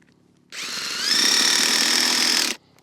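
A power drill drives a screw into a corner collar in one continuous burst lasting about two seconds, its whine rising in pitch as it speeds up, close and loud, then stopping abruptly.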